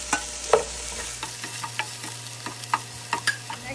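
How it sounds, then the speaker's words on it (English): Garlic and then onion sautéing in a pan for ginataang sitaw at talong, a steady low sizzle broken by scattered scraping stirs and utensil knocks, close and fairly quiet with no talk. "Okay, I'm gonna saute the garlic."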